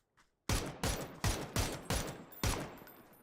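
Gunfire in a competitive online shooter match, with about seven loud, sharp shots fired in a rapid, slightly uneven burst, each cracking in close and ringing briefly after a moment of near silence.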